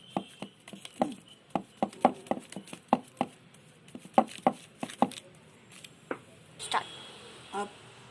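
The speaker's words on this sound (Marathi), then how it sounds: "प्लास्टिकच्या कागदावर खसखस लावून आपण ते 2 बोटाच्या साहाय्याने छानपैकी थापून घेत आहोत" Fingers pat poppy-seed-coated anarsa dough flat on a plastic sheet, giving a quiet run of soft, quick taps in a loose rhythm that becomes sparser and more irregular toward the end.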